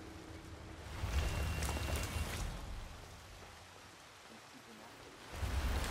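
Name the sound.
rain falling, from the video game Hitman 3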